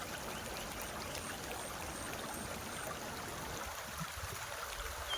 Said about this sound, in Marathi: डोंगरावरून वाहून येते मित्रांनो पाणी